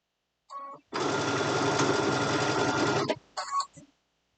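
Sewing machine stitching a seam on an Easter basket, a loud continuous mechanical whir for about two seconds with short bursts of stitching just before and after.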